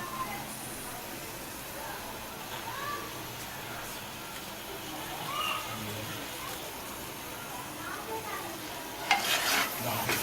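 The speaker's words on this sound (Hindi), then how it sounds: "ये हमने इसमें घी डाल के इसको भूनना है।" Grated carrot halwa frying and being stirred in desi ghee, a steady close sizzle with occasional spoon scrapes and a brighter clatter near the end.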